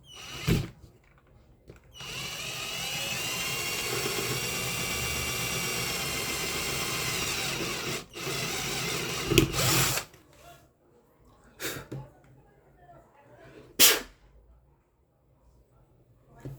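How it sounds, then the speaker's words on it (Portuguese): A drill bores a small hole in the side of a Taiff hair dryer's fan, a steady high whirring drone lasting several seconds, then a few brief bursts of drilling, close and loud. "A gente faz um furinho bem aqui na lateral da ventoinha."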